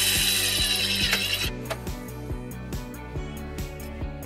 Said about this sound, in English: we're going to ground it right underneath where our rear threshold panel goes using the provided self-tapping screw